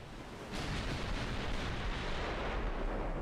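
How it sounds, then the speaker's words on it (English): A battlecruiser's guns fire in the naval game Ultimate Admiral Dreadnoughts as a single loud blast that opens into a sustained broad roar and rumble lasting several seconds. "These guns fire every 40 seconds."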